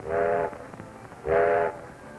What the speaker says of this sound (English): An engineer sounds the whistle to come in on the repair track.